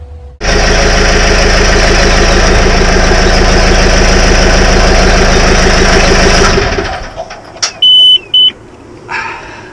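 A diesel engine runs loud and steady in a cramped engine room with a constant droning rumble, then winds down and stops, leaving a few short electronic beeps in the quiet.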